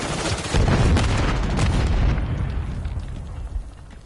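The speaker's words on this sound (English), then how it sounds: "Grenade!" A loud grenade explosion in a multiplayer shooter video game booms out and rolls into a long, dense rumble that slowly fades over several seconds, with no talk over it.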